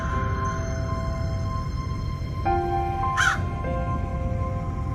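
A crow in a children's cartoon story gives a single sharp caw partway through, heard over a steady backdrop of soft music tones.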